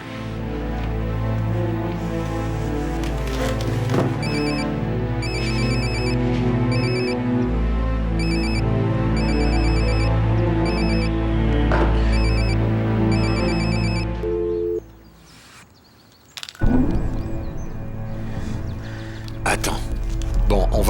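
A telephone rings repeatedly in a French TV drama episode, its rapid electronic trill pulsing in a steady rhythm for about fifteen seconds over background music before cutting off.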